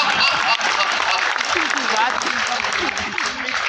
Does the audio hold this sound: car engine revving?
no